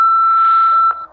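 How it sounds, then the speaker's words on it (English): An answering machine in the Nancy Drew game Midnight in Salem gives a single loud, pure electronic beep that holds steady for just under a second and then cuts off. "leave a message after the beep"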